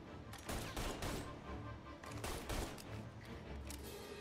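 Gunshots in the Mafia video game fire as several sharp bursts spread over a few seconds, fairly faint and mixed with other game noise.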